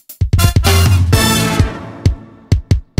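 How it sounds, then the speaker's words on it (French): A short drum roll builds into a punchy brass stab in an Afro Décalé beat made in FL Studio, followed by a few sharp, separate drum hits with gaps between them. "je joue une légère roulade et puis je mets un brass pour accompagner ça"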